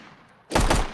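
A single sharp 10mm pistol shot from a Fallout: New Vegas mod with a custom firing sound, bursting in suddenly after near-silence and ringing out briefly.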